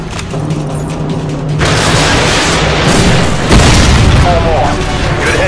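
A missile strike in the Modern Warfare Special Ops video game, with a loud, deep rumbling boom that swells and holds, layered over mechanical game noise, with a voice talking throughout.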